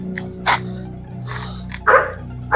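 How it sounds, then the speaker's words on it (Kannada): Dogs bark at night in a cemetery, a few sharp yips and barks breaking out at uneven intervals over a low background hum, moderately close. "ಇದೇನ್ ನಾಯಿ ಎಲ್ಲ ಬುಗ್ತಾವೆ."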